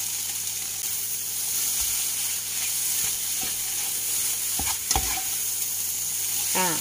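Split-gill mushrooms and egg are stir-fried dry in a pan, with continuous sizzling, scraping spatula strokes and a few sharp clacks against the pan, close and fairly loud.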